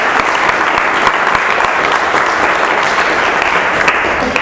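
Sustained applause from a seated audience at a Software Freedom Day gathering carries on as a thick, even wash of many hands clapping, close and loud throughout.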